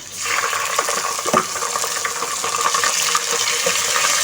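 Garlic and ginger paste fries in a pan, making a loud, close, wet sizzle with bubbling and stirring clatter that holds steady throughout.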